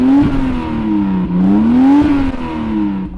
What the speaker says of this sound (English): I think the BMW engine Supra sounded better than the Toyota engine Supra